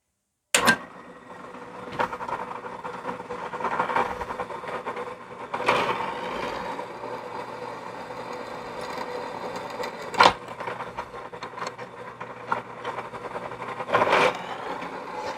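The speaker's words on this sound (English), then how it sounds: "I'm probably going to drill 1/8 inch pilot holes" A drill bores 1/8 inch pilot holes through a steel knife tang, giving a harsh whirring grind in several bursts with sharp clanks between cuts and no talking.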